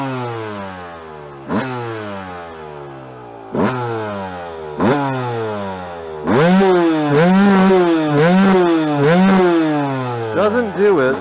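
A Suzuki motorcycle engine fitted with a new Lectron Pro Series carburetor revs up and down repeatedly, each throttle blip sharp and close, building to louder, sustained revving in the second half.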